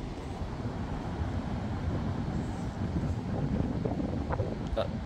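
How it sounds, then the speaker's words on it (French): A steady low roar of wind during storm Herminia, constant and broad with slight swells toward the end and no clear talk. "Ah, rafale montante."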